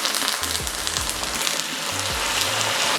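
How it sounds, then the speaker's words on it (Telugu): Tempering seeds and curry leaves fry in hot oil for a red chilli chutney, a close, steady crackling sizzle with a few faint clinks and no talking. "మనకి తాలింపు గింజలు కొంచెం ఫ్రై అయ్యేంత వరకు చూద్దాము. ఫ్రై అయిన తర్వాత కరివేపాకు వేసుకుందాం."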